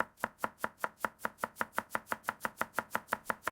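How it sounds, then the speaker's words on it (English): A knife chops through a peeled medium-to-large russet potato on a board, about eighteen crisp, evenly spaced strikes in a fast steady rhythm, close and alone. "Start by peeling and chopping a medium to large russet potato"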